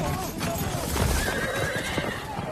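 Horses neigh and whinny over steady clip-clopping hooves in a film scene, a loud, busy mix with a long whinny rising midway and continuous hoof and background noise throughout.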